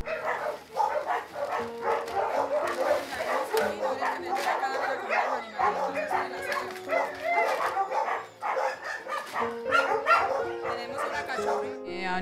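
Dozens of dogs bark, yip and whimper together in the kennel runs of a crowded animal shelter, a dense and continuous chorus with a few sharper barks standing out.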